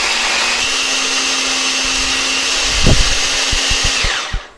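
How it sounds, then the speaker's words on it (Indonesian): An electric food chopper grinds red and green chilies with a steady, loud whirring drone that runs without a break, then winds down at the end amid a few clunks. "ini aku menghaluskannya pakai chopper ya, biar nanti teksturnya itu lebih cantik"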